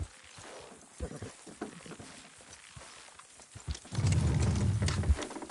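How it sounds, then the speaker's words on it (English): Horses in Red Dead Redemption 2 clip-clopping on the move, hooves thudding faintly at first and then growing into a loud, dense rumble of hoofbeats near the end. "Watch the horses!"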